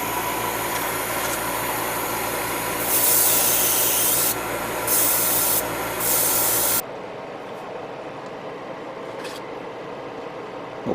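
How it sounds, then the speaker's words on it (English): Short, forceful hissing bursts from a spray can priming small plastic parts of a Perfect Grade Trans-Am Gundam Exia model kit, set over a constant rushing background that drops away abruptly near the end. "Let me start priming them,"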